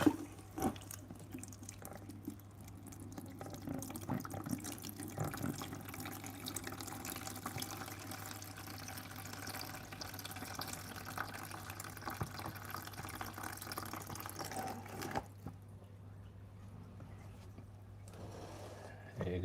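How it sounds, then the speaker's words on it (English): Tap water runs steadily into a container during an aquarium water change for a home fish tank, a continuous splashing flow with a low hum beneath, then cutting off near the end. "Right, let's get that water change sorted."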